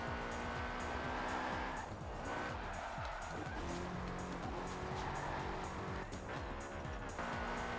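In Forza Horizon 4, a tuned BMW of about 600 horsepower is drifted sideways using the handbrake: a loud, continuous engine drone is overlaid with sustained tire squeal that wavers as the car slides.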